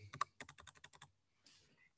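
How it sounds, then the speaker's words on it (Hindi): Fingers type on a computer keyboard in a quick run of about ten crisp, close keystrokes in steady rhythm, followed by a faint rustle. "अब ये मैंने टाइप कर लिया यहाँ पर"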